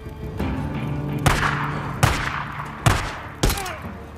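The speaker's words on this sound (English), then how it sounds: "He shot me!" Four heavy gunshots ring out about once every second in the Days Gone video game, each a sharp loud blast with a lingering tail over a steady low background hum.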